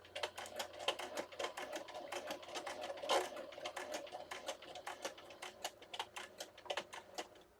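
A sewing machine stitches a Christmas journal cover, with quiet rapid mechanical clicks in a steady run that pauses briefly and then resumes.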